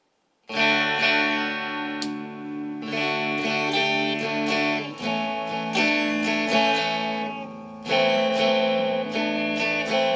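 A Telecaster-style electric guitar on its bridge pickup, with a bright, trebly tone, plays sustained chords and picked notes up close, ringing with a slight effect shimmer.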